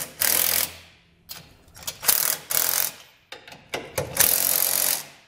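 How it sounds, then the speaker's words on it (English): A ratchet with a 19mm socket tightens bolts on TorkLift tie-downs for a 2017 GMC Sierra 3500, making several close, loud bursts of rapid clicking pawl strokes separated by brief pauses. "Then we're going to use a 19mm socket and wrench to snug those bolts up."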